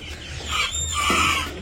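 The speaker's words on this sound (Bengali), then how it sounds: "মোরগের ডাকগুলো অনেক ভালো লাগতেছে আমার কাছে" A young rooster crows on a village farm in the early morning, one short, rough, still-developing call heard fairly close and alone.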